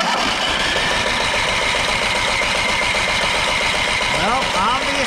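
An Onan 4000 generator engine runs after a starter repair with a fast, even, loud chugging pulse up close, and a voice briefly rises over it near the end.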